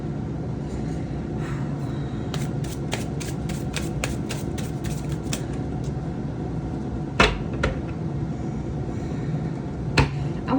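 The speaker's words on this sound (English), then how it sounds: "I want to get a really good shuffle here" Tarot cards being shuffled by hand, a run of quick crisp riffling snaps clustered together, then a couple of sharper isolated slaps, close and clear with no talk.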